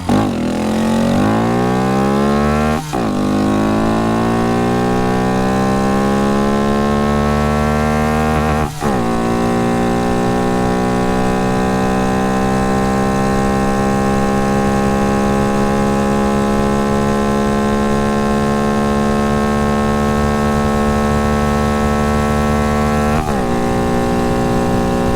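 Honda Monkey motorcycle with an aftermarket intake, ridden uphill: a loud, continuous intake drone rising in pitch through the gears, with brief dips at each shift around three and nine seconds and again near the end.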